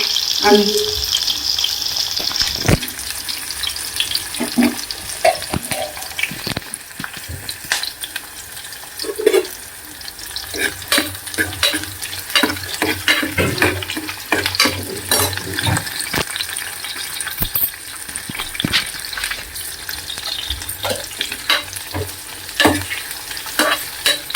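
Tempering for a Kadapa-style fenugreek dal in a pan: steady oil sizzle and frying with repeated scraping and stirring of a spoon against the pan, close and continuous, with a little faint talk.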